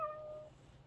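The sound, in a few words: AI companion robot pet cat meowing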